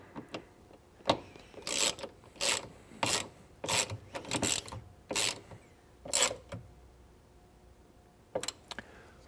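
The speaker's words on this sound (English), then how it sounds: "you'll have to change to a T30 Torx to torque this one down" A T30 Torx ratchet clicks in quick, close bursts while a bolt on a 4-door Bronco's Trektop hard top is torqued down, with short pauses between the strokes.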